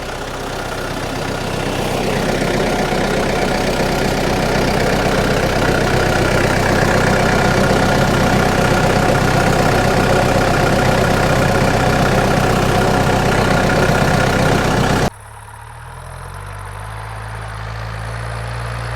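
A tractor engine runs in a field with its radiator partly clogged, a steady, loud, unbroken drone that holds evenly for about fifteen seconds before cutting abruptly to a much quieter, different background.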